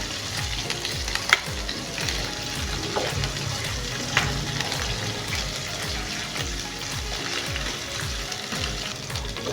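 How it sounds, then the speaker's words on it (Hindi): Oil sizzles and crackles steadily on medium heat as aromatics are stirred in a pan for restaurant-style chicken jalfrezi. The frying noise is loud, close and continuous, with occasional spoon scrapes and no talking. "इसको दरमियानी आंच पे ना अच्छी तरह ना फ्राई करना है, जलाना नहीं है,"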